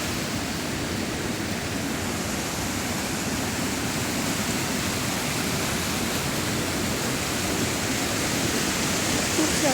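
A rushing mountain stream pours loudly and continuously, a dense, even roar of flowing water close by with no pauses.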